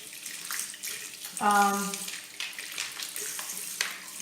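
Warm water runs from a tap while makeup brushes are washed under it: a steady, close splashing flow that swells briefly near the middle with a short tonal squeak, then continues evenly to the end.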